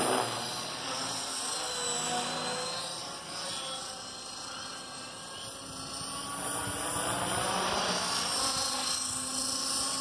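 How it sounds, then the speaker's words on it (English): A Mikado Logo 480 medium-sized RC helicopter flies nearby, its rotor and motor giving a continuous loud whine that swells and fades slightly as it moves. "I love the way this thing flies right now. It's an excellent medium-sized heli."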